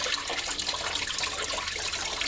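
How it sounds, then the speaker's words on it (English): Radiator coolant gushes out of a Mercedes C230 engine during a water pump replacement, a continuous close splashing rush of liquid that stays steady throughout, with no talking. "See the water just gush out?"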